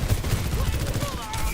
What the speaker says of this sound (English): I'm getting rolled by a Torb turret.